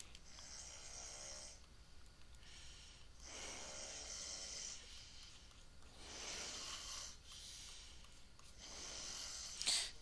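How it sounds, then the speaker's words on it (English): Snoring in the background of a live stream, faint, slow, regular breaths repeating about every two to three seconds, each a soft rasping swell, distant and quiet. "there's gonna be some background noises that's going on, like snoring"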